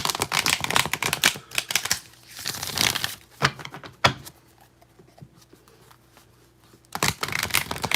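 Oracle cards being shuffled by hand in bursts of crisp riffling and flapping, loud in the first two seconds and again near the end, with a quiet stretch in between.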